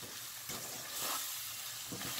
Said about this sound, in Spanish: Vamos a revolver, porque yo quiero que esa harina se cocine.